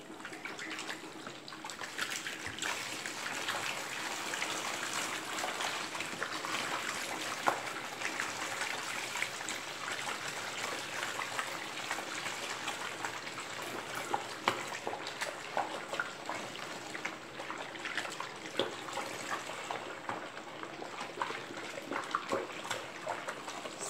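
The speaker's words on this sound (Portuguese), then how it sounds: "aqui eu botei 4 litros de água quente" Hot water pours steadily into a container for homemade liquid soap. It makes a continuous, moderately quiet rushing stream that runs without a break and has no talk over it.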